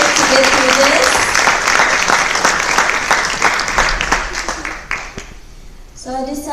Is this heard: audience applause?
yes